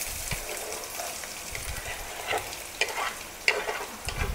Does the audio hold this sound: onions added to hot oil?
yes